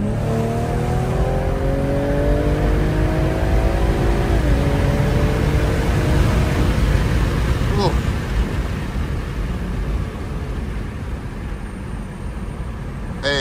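A BMW M340i pulls hard at full throttle, its engine note climbing steadily through the gears with a brief break at a shift, loud and close from inside the car, then easing off into steady road noise.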